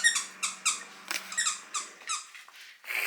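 A dog chews on a squeaky toy, giving a rhythmic series of close, high-pitched squeaks at roughly half-second intervals, with brief pauses between them.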